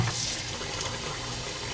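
Warm water pours steadily from a kitchen tap into a container, a continuous, close, even rush of running water with no talk.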